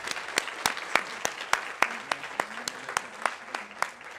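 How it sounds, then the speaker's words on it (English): A small audience at an alumni panel gives a sparse round of applause, individual hand claps landing roughly every third of a second with a faint murmur underneath, moderately distant and fairly quiet. "Can we have one more round of applause for our alumni?"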